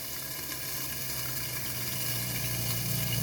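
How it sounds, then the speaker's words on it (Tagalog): Water poured into a cooking pot for pompano sinigang, a steady close splashing and gurgling rush that grows slightly louder over a few seconds. "dagdagan na natin ng tubig"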